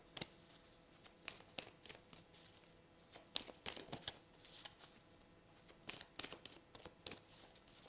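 Tarot or oracle cards being shuffled by hand, a steady run of crisp riffling snaps and soft slides close up, with no voice over them.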